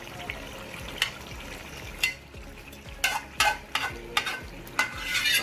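Chicken with masala fries in a pot while a spoon stirs and scrapes it, giving repeated sharp scraping strokes over a low sizzle, close up and with no talking.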